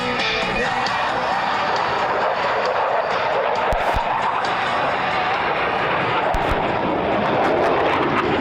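US Navy Blue Angels F-18 jets roar over an air show, a loud, continuous broad jet rush filling the air with scattered crowd sounds and occasional sharp pops beneath it.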